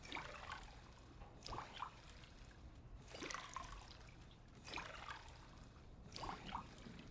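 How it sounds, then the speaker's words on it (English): Water trickles steadily into bottles at a drinking fountain in the Fallout video game, coming in several repeated pouring bursts with short gaps between fills, at close range and with no talking. "Everybody loves to watch me fill bottles with water"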